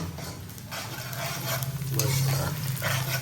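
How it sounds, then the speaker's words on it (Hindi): Potato and chicken stir-fried with browned onions in a pan, a steady loud sizzle running throughout with a spatula scraping and stirring up close, and no voices. "आलू चिकन की हो रही है भुनाई"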